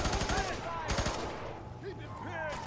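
Bursts of gunfire in the F.E.A.R. 3 video game come in quick repeated volleys with explosive thumps, loud and close, while a voice talks over the shooting.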